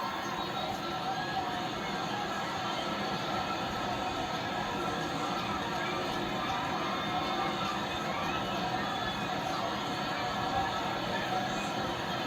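A stadium crowd in the MLB The Show 24 baseball video game, during a Giants vs River Cats spring training game, roars with steady, dense cheering and shouting that stays loud and sustained throughout.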